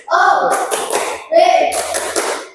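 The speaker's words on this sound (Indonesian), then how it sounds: "Tepuk wow" A school group does the rhythmic 'tepuk wow' clap routine, with quick claps in two close bursts mixed with children's voices calling out in unison.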